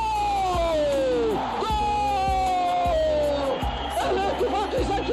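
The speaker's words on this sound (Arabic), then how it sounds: "الاتفاق يسجل هدف التعادل، الكره من مبارك الخليفه يسجل هدف تعادل في الدقيقه 37 من الشوط" Stadium crowd at a football match roaring and cheering an equalising goal, a loud continuous swell of voices with chanting and whoops, while a commentator calls the play excitedly over it.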